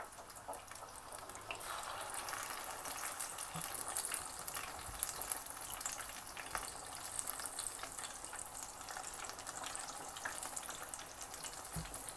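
Overnight-marinated chicken fries in hot oil on medium-low heat, giving a steady, even sizzle and crackle that runs on alone without talk.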